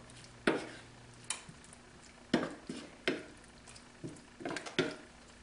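Chicken is stirred with lemon juice and cilantro in a pot, giving a series of scattered clinks and scraping taps at irregular intervals, fairly close and moderately quiet.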